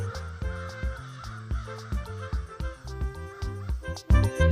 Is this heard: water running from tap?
no